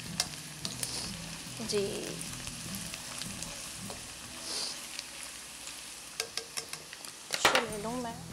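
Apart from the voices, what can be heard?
chopped garlic and onion frying in a pan for biryani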